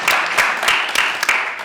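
An audience at a Cleveland property survey completion press conference breaks into applause, a brief burst of dense clapping from a modest crowd nearby.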